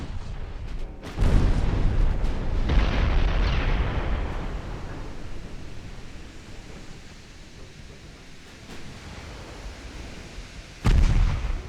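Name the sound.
enemy cruisers' 10-inch guns firing in a naval video game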